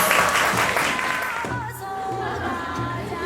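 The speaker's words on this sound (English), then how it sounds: "Please give him a round of applause." Audience applause at a Pan-Asian New Year celebration honoring a performer in Pungmul dress who played the buk, a Korean traditional drum; steady crowd clapping, fairly loud and dense, thinning slightly with some voices mixed in.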